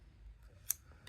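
A pair of scissors cuts a small hole in embroidery fabric with a single quick, faint snip amid soft handling noise.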